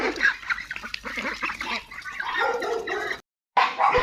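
Chinese geese honk on a farm, a run of close, loud, nasal calls overlapping one another, broken by a brief silent gap near the end.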